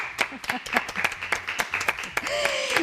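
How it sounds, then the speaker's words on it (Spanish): An audience gives a short round of applause at a Spanish event honouring a hospital team captain, distinct separate claps with a few voices mixed in, ending as a tone rises. "Este es el aplauso para ella"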